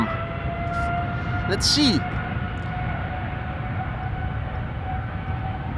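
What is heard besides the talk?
departing airplane at Amsterdam Schiphol Airport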